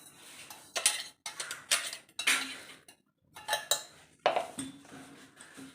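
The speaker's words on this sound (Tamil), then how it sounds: "இப்போ நம்ம பொடிச்சு வச்சிருக்க மாவை அப்படியே இதில் தட்டிடலாம் வேற பாத்திரத்தில்" Ground flour is tapped out of a mixer jar into another vessel, making a series of sharp metallic knocks and clinks in irregular bursts. Short pauses separate the bursts, and the sounds are close with no talk.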